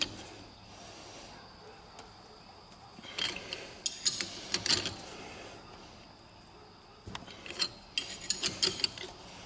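Wrench being cranked on a mower axle with stripped threads, bursts of metallic clicking and grinding ratchet strokes in two clusters, separated by quieter handling noise, up close.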